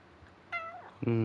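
A cat in the video game Alan Wake II meows twice, a short mew then a louder, drawn-out meow, close by and clear.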